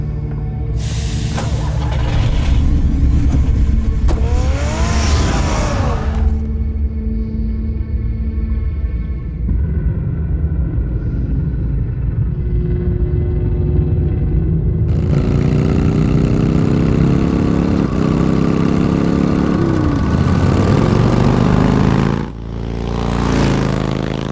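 A car engine in the Telltale Batman game cranks, starts and revs, then settles into a steady running drone. Pitch climbs during acceleration before the sound cuts off near the end.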